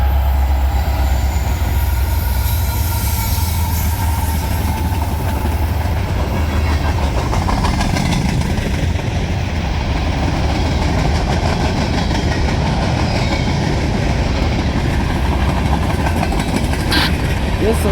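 A Norfolk Southern freight train rumbles past up close on the D&H line, a heavy continuous roar with rolling wheel noise and faint squeals throughout.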